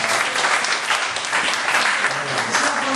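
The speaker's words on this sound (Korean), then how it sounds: "박수 주시기 바랍니다." Steady applause from a church congregation at an evening worship service, dense, even clapping filling the room for about three seconds with no pause.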